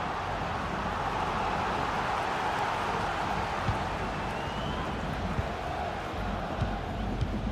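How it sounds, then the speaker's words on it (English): A steady roar from a large football crowd in a cyber football match, a dense wash of cheering and chanting with faint thumps rising through it, continuous and moderately loud. "just listen to the crowd"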